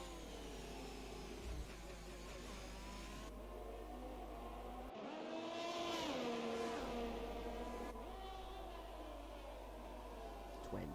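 Race cars in a racing video game at Bahrain, engines whining and revving continuously with rising and falling pitch as they battle, a steady mid-level drone with no clear talking.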